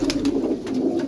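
Pigeons kept for sale coo softly in a low, rounded hum, several rolling coos close by with faint rustling above.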